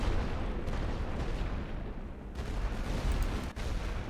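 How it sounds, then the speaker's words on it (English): An artillery barrage in The Great War: Western Front video game rumbles continuously, with dense, heavy booms and shell impacts blending into a loud, unbroken roar. "we're going to drop some artillery on these spots here"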